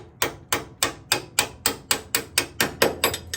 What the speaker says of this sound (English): I'm gonna send it home with a brass drift and a hammer, just light tap